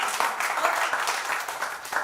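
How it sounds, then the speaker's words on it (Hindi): An audience at a Hindi poetry recital claps steadily and fairly loudly throughout, a dense wash of applause. "एक बार फिर से जोरदार तालियां निवेदित करिए।"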